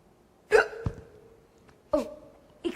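A woman on a stage set has a bout of hiccups, three short sharp vocal hiccups spaced about a second apart, close and clear in an otherwise quiet room.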